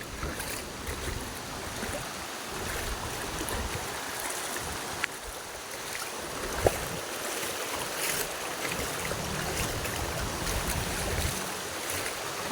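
Strong floodwater rushes along in a long, wide, continuous roar with no pauses, as if near a bridge that seems close to giving way, and there are a few faint knocks.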